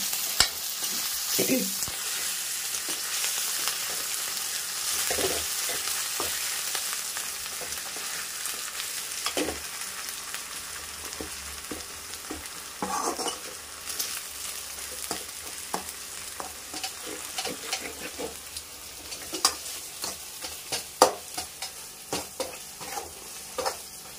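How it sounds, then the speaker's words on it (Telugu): Ginger garlic paste fries and sizzles in a pan for capsicum chicken curry, a steady hiss broken by frequent scraping stirs and clicks of a spoon, close and continuous throughout. "ఇది కూడా పచ్చివాసన పోయేంత వరకు అయితే మనం బాగా ఫ్రై చేసుకోవాలి"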